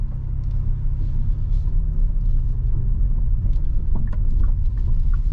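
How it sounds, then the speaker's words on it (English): A Hyundai Bayon 1.0 T-GDi with dual-clutch transmission pulls away, heard from inside as a low steady engine and road rumble with faint light clicks, no talk. "We put it to drive, release the classic handbrake, and off we go."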